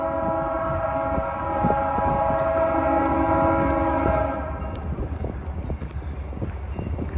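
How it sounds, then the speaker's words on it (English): A train rolls by at a railroad crossing near a data center, its horn blaring in long sustained blasts that fill the first four seconds before the rumble and rattle of the passing cars take over, loud and close. "And here comes the train right now."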